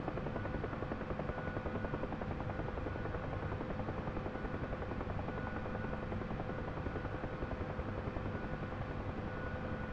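Steady, dense drone of a helicopter rotor and turbine in a flight simulator game, loud and continuous for the whole stretch with no talking.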